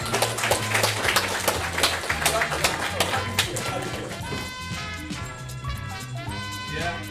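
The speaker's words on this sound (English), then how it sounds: "Give him a round of applause!" An audience claps and cheers at a club meeting, a dense burst of applause that starts loud and thins out, with talking and music-like tones rising over it toward the end.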